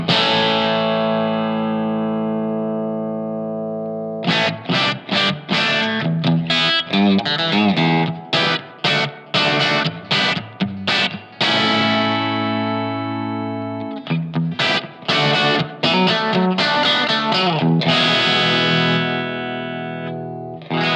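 Electric guitar played through a Positive Grid Spark practice amp on its Luxfer model, patterned after an old Deluxe Reverb, with a long ringing chord, then a run of choppy strummed chords and ringing notes, loud and alone.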